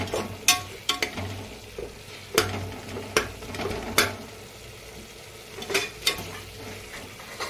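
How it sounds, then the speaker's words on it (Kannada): Red chilli powder frying and being stirred in a pan for a Bangalore-style mushroom biryani, a low steady sizzle broken by sharp scraping strokes of the spoon at irregular intervals, close by, with no talking. "ಒಂದು ಸ್ಪೂನ್ ರೆಡ್ ಚಿಲ್ಲಿ ಪೌಡ್ರು ಸ್ವಲ್ಪ ಹಂಗೆ ಫ್ರೈ ಮಾಡಬೇಕು"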